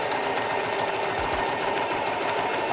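A sewing machine runs steadily on its longest stitch setting, gathering fabric for a ruffle, a close, continuous whirring hum with a faint rhythmic chatter throughout.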